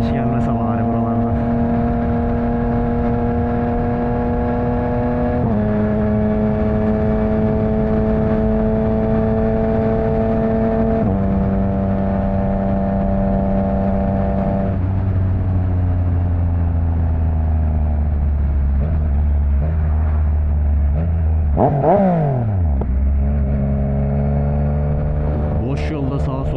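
A Yamaha MT-09 motorcycle with an opened exhaust is ridden on an open road, its engine droning loud and close with steady tones that step through gear changes, dropping and then rising sharply near the end, while a voice talks.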